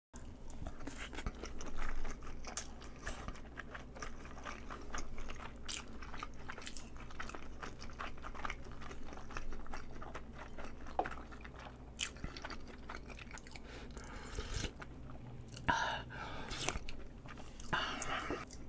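Soy-marinated salmon, eaten with cabbage in a hot pot meal, is chewed close to the mic, giving soft, wet, squishy mouth sounds with occasional sharper bites throughout, quiet and with no talk.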